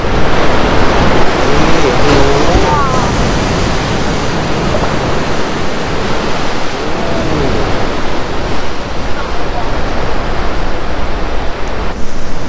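Broad, steady roar of sea waves washing onto the shore at Inamuragasaki in Kamakura, Japan, a continuous wash of surf with no break, loud and close and heard alone.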